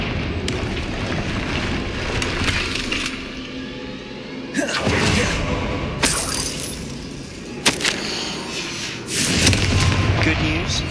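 Confringo spell blasting through a barrier in the Hogwarts Legacy video game: several loud, sudden booming blasts spaced a few seconds apart over a continuous rumbling game backdrop.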